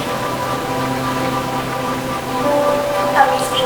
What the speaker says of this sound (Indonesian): Sore itu hujan deras, dan suasana di kota Bandung sangat sejuk sekali.